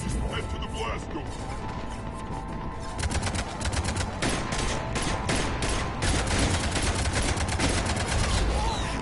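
Cannons firing in a sci-fi shooter video game, rapid heavy bursts like a barrage that grow denser and continue almost without pause, with faint game voices underneath.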